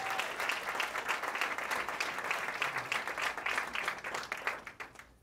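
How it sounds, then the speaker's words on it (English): Studio audience applauds a panel guest, the writer and co-producer of The Handmaid's Tale, at a TV storytelling panel on reproductive health; dense, steady clapping fills the whole stretch at moderate loudness with no one speaking over it. "Give her a round of applause."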